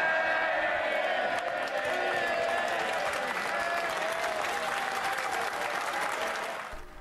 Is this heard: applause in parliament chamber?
yes